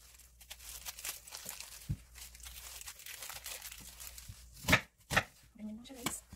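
Onion being chopped on a board for Korean braised beef short ribs, a few sharp knife strikes with soft crinkly handling between, close and fairly quiet, ending with a short burst of voice.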